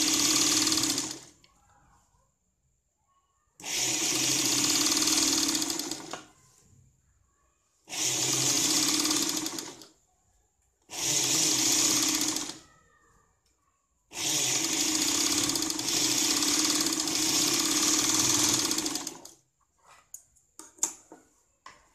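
A sewing machine stitches piping cut on the cross onto a blouse in five loud bursts of rapid whirring, separated by short pauses, with faint handling noise at the end.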